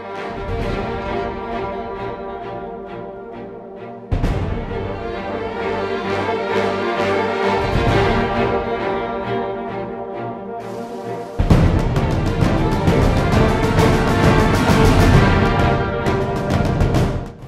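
Orchestral video game boss fight music, tense and grand, with sustained strings and brass that swell louder in stages, building to a fuller, dramatic section near the end.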